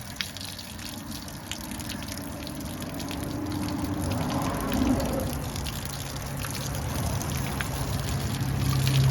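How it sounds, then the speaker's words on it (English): Water pouring out of the back of a boat engine, a steady splashing gush that grows gradually louder and fuller across the clip, heard close with a low mechanical hum underneath and no speech. "we'll see water starting to pour out of the back right here"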